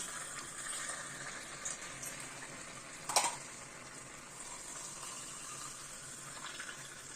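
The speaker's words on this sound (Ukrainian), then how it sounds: "це все я заливаю розтопленим смальцем" Melted lard being poured over canned meat in jars, a soft continuous trickling and liquid hiss at low volume, with one brief clink of glass partway through.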